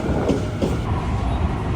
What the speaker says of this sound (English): The Tokyo Metro.